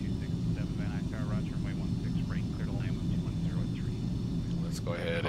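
Simulated aircraft engine drones steadily while taxiing on taxiway Bravo in X-Plane 11, a constant low hum with a voice talking over it throughout.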